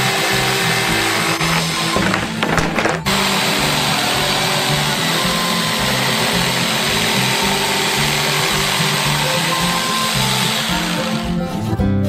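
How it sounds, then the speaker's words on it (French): Loud, continuous buzzing of an electric jigsaw cutting, harsh and steady close up, with a brief dip near the start. "Il reste à la découper avec une scie sauteuse électrique."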